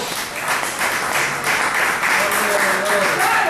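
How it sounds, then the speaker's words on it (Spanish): Church congregation breaking into loud, sustained applause during a Spanish-language sermon, dense clapping filling the space for several seconds with a faint voice underneath. "Den un aplauso fuerte a Jesús."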